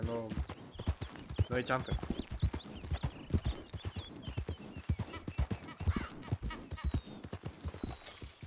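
Horse hooves clip-clop in the RedM western roleplay game, a quick running rhythm heard steadily under someone talking in Spanish, with a brief whinny partway through.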